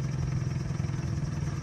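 Motor of a small racing-style fishing boat near San Diego, a steady, close mid-pitched drone with a slight rapid flutter, heard alone for a brief moment.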